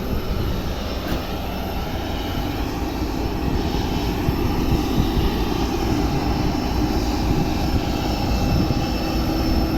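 Jet airliner engines, including a Boeing 787 readying for departure, roar steadily at an airport apron during refuelling, a continuous loud broadband rumble with no talk.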